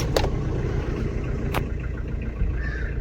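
A used Tata Indica DLS diesel car with 75,000 km on it runs close by, its engine a low steady rumble with two brief clicks near the start and middle and no talking.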